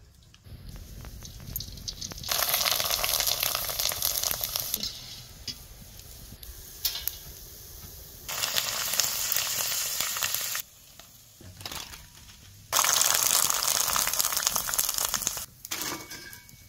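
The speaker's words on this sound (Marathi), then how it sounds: "कुरड्या तळायला थोडं तेल ओतूया" Kurdya fry in hot oil in loud, crackling bursts of sizzling that surge and drop away in long stretches, with quieter gaps of faint bubbling between them.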